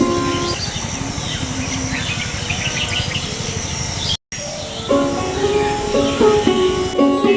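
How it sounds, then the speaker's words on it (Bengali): Birds chirp and trill in repeated bursts over a steady insect drone outdoors in a village in late afternoon after rain, broken by a brief dropout before the calls resume. "আপনারা হয়তো বা শুনতে পাচ্ছেন পাখির সেই ন্যাচারাল শব্দ"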